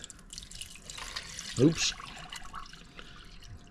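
Water is poured into a ZeroWater 12-cup filter pitcher, a soft close trickle and splash under a brief spoken exclamation.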